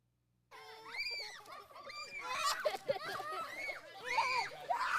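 A child shrieks and screams repeatedly while being chased around by an emu, high piercing cries bursting in after a brief silence and continuing loud and close, mixed with excited yelling.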